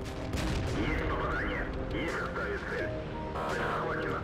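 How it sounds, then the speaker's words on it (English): Tank gunfire in World of Tanks, with a Borsig and an Obj 430 in the battle: booming shots and crackling battle noise over a constant engine rumble, with a voice talking faintly in the mix. "Ty saw the Borsig shooting and now he's gonna go."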